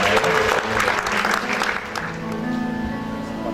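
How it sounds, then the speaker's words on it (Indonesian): Guests clap for a newlywed couple at a church wedding blessing, a brisk burst of applause that fades over a few seconds as music begins to come in. "kita berikan tepuk tangan juga buat mereka"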